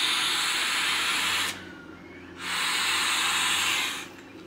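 Air blown through the nozzle into an inflatable lumbar cushion: two long, steady breathy hisses, close and fairly loud, with a short gap between them.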